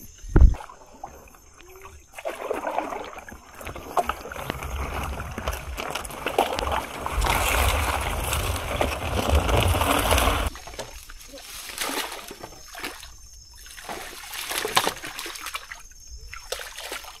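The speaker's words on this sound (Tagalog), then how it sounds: "nagbangka na tayo" A boat is rowed through deep floodwater after heavy afternoon rain, with oars sloshing and splashing in steady strokes close by and a loud rush of water in the middle stretch.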